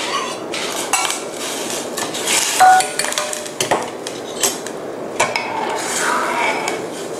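Fish maw going into a cooking pot for Thai red-gravy fish maw soup, with close metallic clinks, scrapes and clattering of a utensil against the pot coming in irregular bursts.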